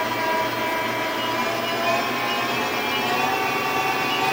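A Prototrak 1840 CNC lathe from 2000 spins at about 400 RPM, giving a steady, even mechanical hum with a faint tonal whine that holds unchanged throughout.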